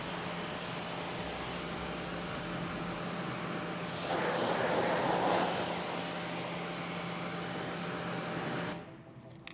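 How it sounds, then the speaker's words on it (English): Pressure washer gun held back from a car's engine bay at lower pressure, rinsing it: a steady, loud broadband hiss of spraying water that swells louder in the middle, then cuts off abruptly near the end. "So you keep the gun farther away from the surface, lower pressure, and we're more or less rinsing it."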